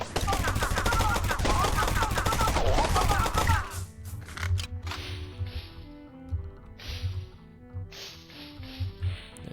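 Gunfire in the sci-fi video game ECHNO X, first as a dense, loud burst of rapid shots and then as scattered single sharp reports and impacts.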